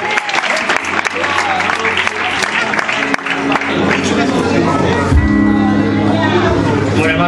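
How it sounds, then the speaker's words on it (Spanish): Loud applause from a church congregation, a dense sustained wash of clapping with crowd noise and babble, steady throughout with a low hum underneath. "Un fuerte aplauso para el Señor."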